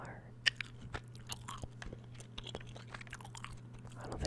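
Wet gum chewing close to the mic in a relaxed ASMR gaming session, with irregular soft smacks and clicks over a low steady hum and no talk.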